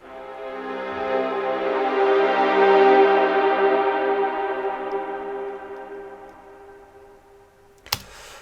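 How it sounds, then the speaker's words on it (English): Sustained string section from a music track swells and fades over several seconds, a smooth layered chord that peaks midway and tapers, ending with a brief sharp click. "And the strings sound like this."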